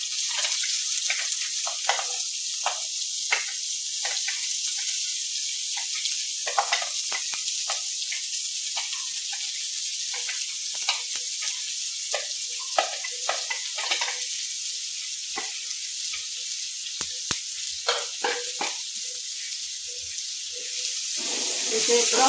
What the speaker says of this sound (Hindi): अब 2 मीडियम साइज का प्याज चॉप किया हुआ डालेंगे।